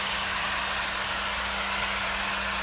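Hair dryer blowing continuously while hair is dried by hand, a loud, close, even rush of air over a steady motor hum with no pauses and no voices.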